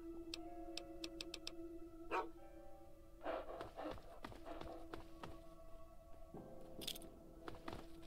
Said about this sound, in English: I can hear him barking. Or panting, sorry.